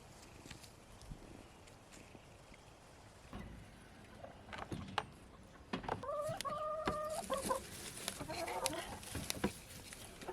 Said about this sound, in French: J'ai la chance d'avoir des poules qui me font des œufs chaque jour